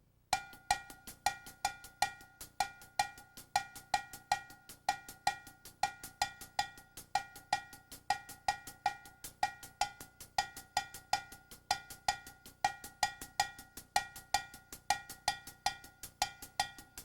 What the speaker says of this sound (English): I'm playing the clave here with my right hand on this small bell